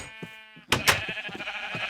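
Sheep bleating on an underground sheep farm in a video game: several short bleats, then a louder, wavering cry and further overlapping bleats, nearby and clear with no talk.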